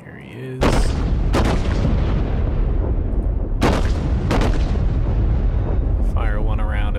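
Battleship USS New Mexico firing its main guns in World of Warships: loud, sharp booming salvos at about 0.6, 1.3, 3.6 and 4.3 seconds over a constant rumbling ocean and engine bed, with synthetic game sounds at the start and end.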